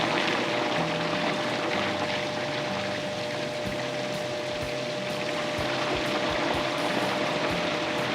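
Bread pudding custard with vanilla extract whirs in a blender, making a steady, loud churning drone with some gurgling that lasts the whole time.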